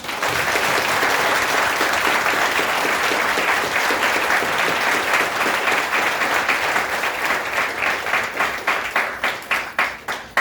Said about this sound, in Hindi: अपने लिए एक जोरदार ताली बजाओ।